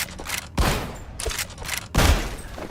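Shotgun blasts in the VR game Hellsweeper fire as three heavy, booming reports spaced about a second apart. Each blast leaves a short tail of debris-like crackle, heard close and alone.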